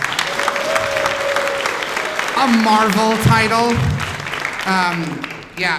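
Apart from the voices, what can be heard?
convention audience clapping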